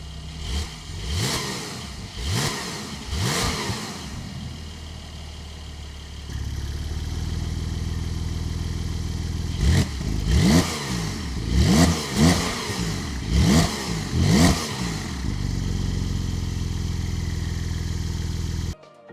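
A 2023 Porsche 911 GTS flat-six engine with 473 horsepower revs hard in repeated sharp bursts, rising and falling between stretches of loud, throaty idling.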